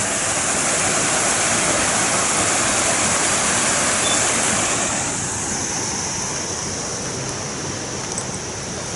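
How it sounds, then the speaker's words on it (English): A park waterfall rushes in a steady, loud, broadband roar that softens slightly after the midpoint and continues unbroken with no voices. "look at the waterfall."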